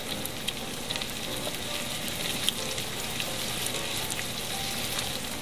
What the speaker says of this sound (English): You can hear them sizzle.